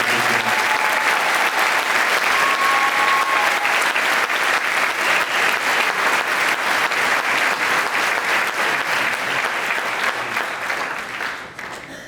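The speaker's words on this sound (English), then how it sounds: "I'd like to have you give the entire band a big round of applause" Sustained audience applause for a high school band at a Christmas concert, loud and steady across the room with dense clapping throughout, tapering slightly at the end.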